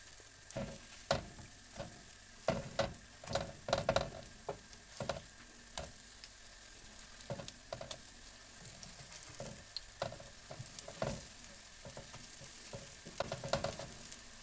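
Apple pancakes sizzle in a frying pan, with intermittent scraping and tapping of a utensil at close range, no voices.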